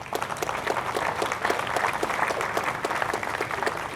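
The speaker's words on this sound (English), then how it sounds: "I think give them a round of applause" Warm applause for uniformed officers at a Remembrance Day ceremony in Penang, a lively, fairly close crowd clapping at a brisk, even density throughout with individual claps distinct.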